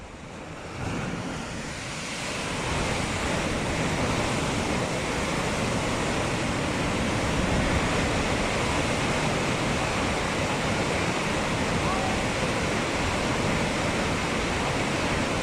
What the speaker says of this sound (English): The floodgate is opened for the first time in years, and the force of the water blasts away mud that has built up over time.